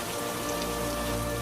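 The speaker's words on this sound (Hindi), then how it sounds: "बाहर तूफानी बारिश अब भी हो रही थी" Steady, heavy stormy rain falls outside in a Hindi cartoon story, a dense continuous hiss of drops at constant loudness with no voices.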